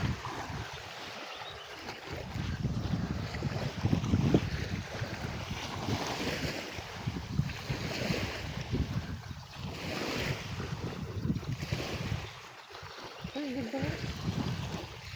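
Sea waves and wind on the coast of Bantayan Island, a continuous wash of surf and gusting wind noise with swelling and fading surges, under faint voices.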